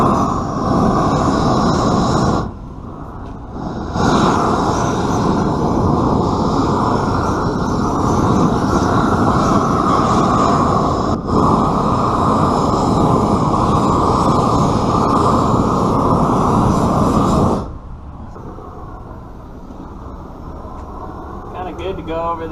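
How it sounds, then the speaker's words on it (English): A big gas torch roars steadily while heating crack filler on an asphalt driveway, loud and continuous with a brief dip near the start and a drop to a quieter hiss toward the end. "Heating it up slowly is better with this big torch."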